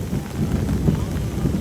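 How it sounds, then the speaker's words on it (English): A thunderstorm rolls over an outdoor theme-park crowd, with steady heavy rain and deep rumbling thunder swelling and easing throughout, loud and close. "Here comes the storm."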